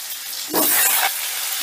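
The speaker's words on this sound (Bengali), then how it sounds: "ফোড়নটা একটু ভাজা করেই দিয়ে দিচ্ছি কেটে রাখা আলুগুলো" Cut potato pieces drop into hot oil tempered with bay leaf, setting off a sudden loud sizzle that settles back into a steady frying hiss.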